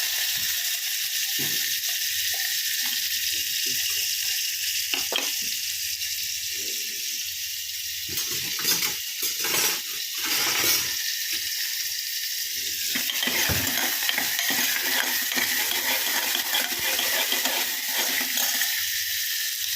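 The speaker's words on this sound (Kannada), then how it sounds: "ಒಂದು ಅರ್ಧ ಈರುಳ್ಳಿನ ಕಟ್ ಮಾಡಿಬಿಟ್ಟು ಈ ಥರ ಒಗ್ಗರಣೆಗೆ ಹಾಕ್ಕೊಂಡು" Steady hissing sizzle of onions frying in hot tempering oil, with occasional stirring scrapes and bursts of louder crackling, close up and continuous.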